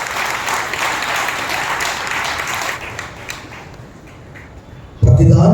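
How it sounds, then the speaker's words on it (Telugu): A congregation at a Sunday worship service claps loudly in a dense burst of applause that gradually thins and fades, then a loud voice cuts in at the end. "బిగ్గరగా చప్పట్లు కొట్టి ప్రభువును మహిమపరచాలి."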